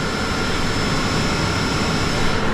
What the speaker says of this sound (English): I didn't idle the tractor down because I wanted to check and see where my